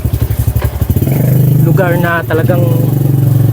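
A motorcycle putters along with a rhythmic, chugging engine thump, then settles into a steadier drone as the ride goes on. Someone talks loudly over the engine throughout.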